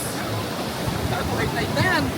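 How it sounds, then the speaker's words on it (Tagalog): Strong, powerful ocean waves rolling in at high tide on a beach, a steady broad wash of surf throughout, with people talking over it. "Napakaganda, napakalakas ng alon."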